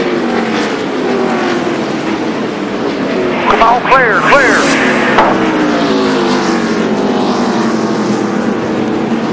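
NASCAR stock cars roar around the track during the 2002 Virginia 500, with a continuous loud engine drone and rising and falling pass-by whines, under a spotter's radio call.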